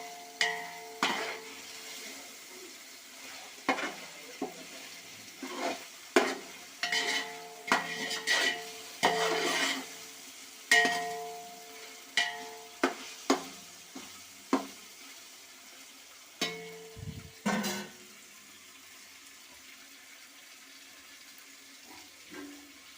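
Tomatoes for a chicken dum biryani with basmati rice are stirred as they soften in a pan. A spoon clanks and scrapes against the metal in scattered bursts over about twenty seconds, close up, with a faint background of bubbling and no voices.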